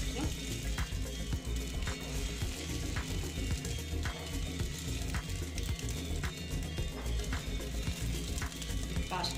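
Potato, pea and semolina snacks frying in oil in a pan, a continuous soft sizzle with faint clinks and stirring, close and steady throughout.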